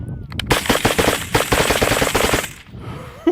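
An FG-15 rifle fires 5.56 rounds in a rapid, loud burst of close shots that runs for about two seconds and then cuts off, leaving a short quiet tail.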